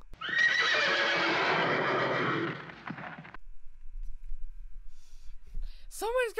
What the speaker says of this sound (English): that's a reminder to editing Richie to add a horse sound effect in post